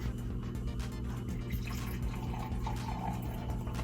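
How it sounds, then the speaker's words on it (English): A water sample is poured steadily into a lab filter set up to catch microplastics, giving a continuous close trickle and splash of liquid with no talking. "So I'm going to pour the sample in."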